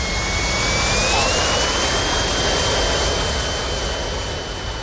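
Simulated airplane engine in a flight simulator throttling up for a runway takeoff, a loud steady jet-like roar with a whine that slowly rises in pitch, continuous and alone.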